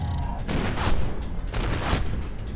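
Heavy shotgun blasts in the shooter F.E.A.R. 2, a few booming bursts in close succession over a loud, continuous backdrop of combat noise, with a voice talking over it.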